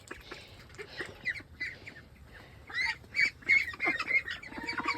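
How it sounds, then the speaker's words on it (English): Ducks on a small farm quack in a loose, irregular chatter, with several close calls overlapping. The calls grow busier toward the end. Nobody speaks. "What are you doing, duckies?"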